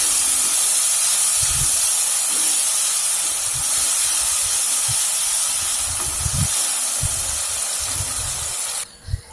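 Tomatoes sizzle in hot oil with a little salt as they cook down for a kidney bean curry, a steady close hiss with soft scraping stirs throughout, cutting off abruptly near the end.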